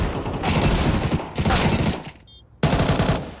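Rapid bursts of MP7 submachine gun fire in Counter-Strike during a professional esports match, loud and close, three sustained volleys separated by a short lull.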